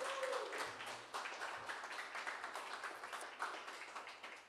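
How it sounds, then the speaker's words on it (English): Audience applause after a live band performance at a music jam session: steady, dense clapping that stays faint and distant, with no voices over it. "Can we get another round of applause, please"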